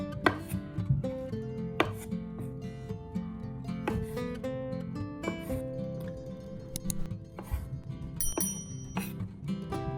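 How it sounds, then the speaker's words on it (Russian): Knife chopping green and black olives finely on a board for a feta, walnut and mint mix: a quick run of close, crisp taps in an uneven rhythm, with a few sharper knocks standing out against steady kitchen background. "Меленько нарезаем зеленые и черные оливки."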